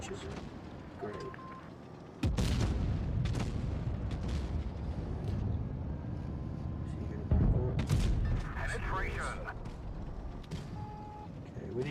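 Chieftain MK6 tank cannon shots in World of Tanks Blitz, two heavy booming blasts a few seconds apart over continuous battle rumble, with a voice talking throughout.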